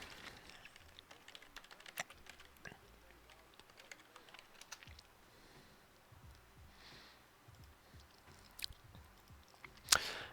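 Keys clack on a computer keyboard in short irregular bursts of taps, close and fairly quiet, with brief pauses between runs and a sharper louder click near the end.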